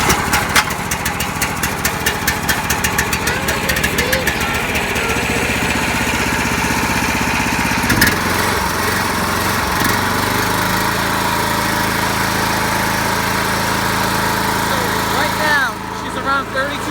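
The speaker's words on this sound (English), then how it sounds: "this is a 13-horse engine." A Harbor Freight 13 HP engine fitted to a Bobcat M371 skid steer runs steadily at a loud, even drone near the mic, with a brief clunk around the middle and a voice talking over it.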